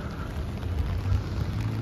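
Light drizzle falls outdoors near a stadium by the beach in Wollongong, Australia, a soft steady patter with a low rumbling background and no voices.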